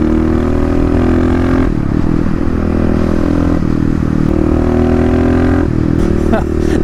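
A Kawasaki KLX351 dirt bike engine on a dyno with the airbox lid removed, revving hard and loud with a throaty intake roar, rising and dipping in repeated pulls.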